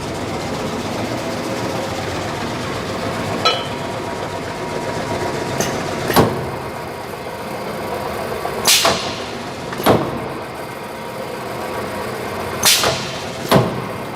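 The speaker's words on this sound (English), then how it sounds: "I'm gonna go right around and just cycle it again. Let you hear everything." Cincinnati M3-50 CNC press brake, a 50-ton, 8-foot machine, running through a cycle: a steady mechanical hum with sharp clanks and thumps recurring every couple of seconds, fairly close, with no talking.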